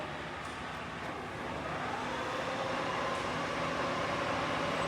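A universal milling machine made by Alcera France, with a 1200 mm by 275 mm table, runs in rapid traverse as a steady mechanical whir and drone that builds slightly and continues unbroken.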